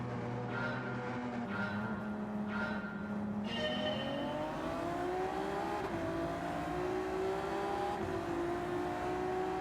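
Honda NSX GT500 race car pulling away from the grid at a race start in Gran Turismo 7, a continuous engine drone climbing steadily in pitch through the gears, mid-level and unbroken, with no voices.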